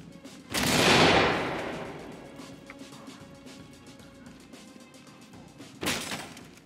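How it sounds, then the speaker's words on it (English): Flashbang grenades in the video game Ready or Not go off twice: a loud, sharp blast with a long ringing decay, then a second bang several seconds later. "my smokes have turned into flashbangs"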